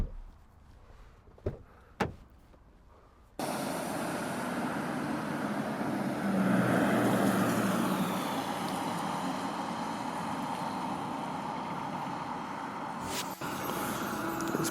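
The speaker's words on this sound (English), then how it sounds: "It's bad news when the bin wagon sounds better than your car." A bin wagon (garbage truck) engine rumbles past outside at moderate distance, a steady broadband drone swelling and fading after a couple of door clunks, with no talk.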